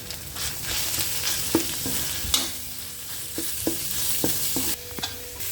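Minced chicken frying in a pan with brinjals and dried shrimp, a loud continuous sizzle punctuated by a series of sharp spatula knocks and stirring scrapes, close up.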